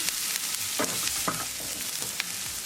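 Tinda paneer sabzi with cumin seeds and onion sizzles in a pan, a constant frying hiss with a few soft scraping strokes as it is mixed.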